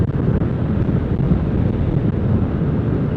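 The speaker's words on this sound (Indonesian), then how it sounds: "ini anginnya sudah tidak terlalu kencang seperti kemarin." Wind rushing past the microphone while touring on a motorbike at about 60 km/h along the north coast road of Madura, a constant low roar and buffeting with no talking.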